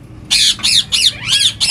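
Green ringneck parrot from a breeding pair giving four harsh, loud squawks in close succession, near and clear with no talk over them.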